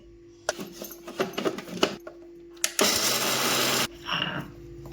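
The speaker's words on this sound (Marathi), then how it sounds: "मिक्सरला लावून घेते" A mixer grinder grinding chutney whirs in short bursts, then runs in one loud sustained grind for about a second before stopping, with rattling between pulses.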